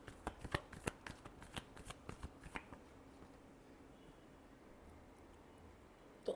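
Tarot cards are shuffled in a quick burst of crisp riffling snaps during the first half, then the sound falls to a near-silent pause before a single soft tap at the end.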